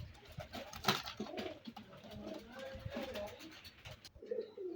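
A pair of young teddy pigeon chicks coo softly and repeatedly at close range over a steady, noisy background, with the calls running almost continuously before a brief quieter pause near the end.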